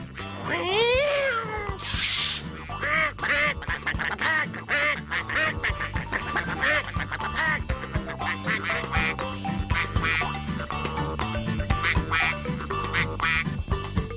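Cartoon ducks quack in quick repeated bursts over a busy animated soundtrack, with music, cat-like meowing cries and other voices mixed in throughout.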